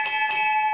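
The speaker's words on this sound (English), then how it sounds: "everybody to hear that bell" A hand bell rung to announce that a veteran has been offered a job, two quick strikes leaving a bright, sustained ring that lingers close and clear.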